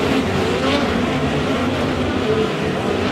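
Midget race cars roar down the back straight at a dirt oval raceway, a continuous dense engine drone, loud and steady without breaks.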